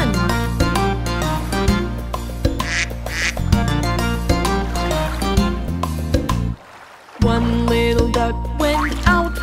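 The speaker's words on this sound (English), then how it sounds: "Mother duck said quack, quack, quack, quack" Duck quacks ring out in a children's animal song about a mother duck and her ducklings, loud and repeated over bouncy music.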